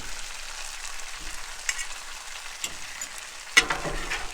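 Chicken and shrimp fajitas sizzle on a Blackstone griddle, a steady close hiss of frying broken by a few scraping stirs and spatula clinks, one louder clank near the end.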